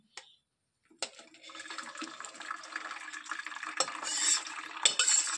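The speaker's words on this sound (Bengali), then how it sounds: "এবার এই জলটাকে আমরা ছেঁকে নেব" Boiled elephant-foot yam stalks are strained in a home kitchen. After a brief knock and a pause, a steady rushing, splashing pour of water runs continuously for several seconds and grows slightly louder toward the end.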